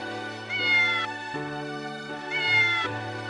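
A small black stray kitten meows close by, giving two drawn-out, wavering cries in a row with no voices around.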